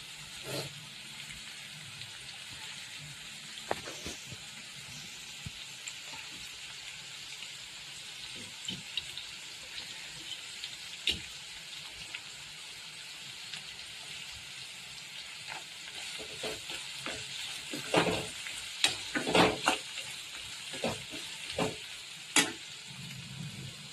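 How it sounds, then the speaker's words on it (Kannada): Curry leaves sizzle in hot oil while cooking tomato chitranna, a steady soft frying hiss with scattered crackles and pops that build into louder spits toward the end, with no talk. "ಟೊಮೊಟೊ ಹಾಕೋಕ್ಕಿಂತ ಮುಂಚೆ ನಾನು ಈ ಕರಿಬೇವನ್ನು ಹಾಕ್ತೀನಿ"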